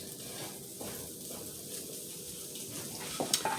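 Sausages cooking in a seasoned skillet give a steady, low sizzle with faint scraping and a light clink of a utensil near the end.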